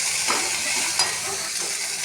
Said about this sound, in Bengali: চিংড়িটাকে ভেজে নেব